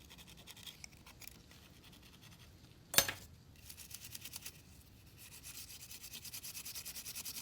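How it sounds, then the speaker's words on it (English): Paint scraped off a Porsche 911 front turn signal with the side of a pointy tool, faint close rubbing and scratching strokes with one sharp scrape partway through and a steadier scrubbing rhythm toward the end. "This is a pointy tool, but I'm kind of using the side of it."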